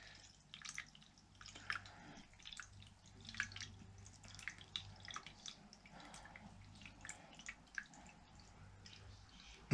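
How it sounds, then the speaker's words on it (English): Water runs gently down the glass side of a tilted jar while an eco sphere is being filled, heard as soft, faint trickles and drips that come in irregular bursts over a low background hum. "if we tilt the jar and then run the water down the glass"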